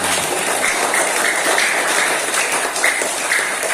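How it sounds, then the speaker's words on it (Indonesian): An audience at a religious study gathering on the life of the Prophet Muhammad applauds for him, loud, continuous crowd clapping that stays even and close for the whole stretch. "Tepuk tangan untuk Nabi Muhammad ya."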